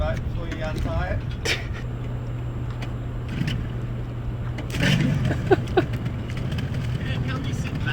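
A sailboat's engine drones steadily at low pitch throughout, with occasional knocks and splashes and some voices nearby.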